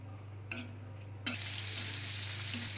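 Onion and garlic are dropped into hot oil in a pan and burst into a loud, steady sizzle, following a quiet stretch with a small clink.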